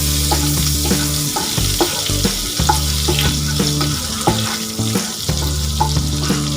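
A tablespoon of butter melts and sizzles in a pan on a lit stove while palak paneer is being made: a loud, steady frying hiss runs throughout, mixed with stirring scrapes and a sustained tonal hum.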